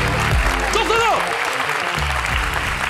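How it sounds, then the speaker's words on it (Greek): Studio audience applause greets a talk-show host arriving at a Greek entertainment show, a loud, dense wash of clapping and cheering with a voice and music-like tones rising briefly through the middle. "Κυρίες και κύριοι, δυνατό χειροκρότημα για τον Ζήση Ρούμπο."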